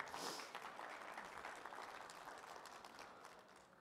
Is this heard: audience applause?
yes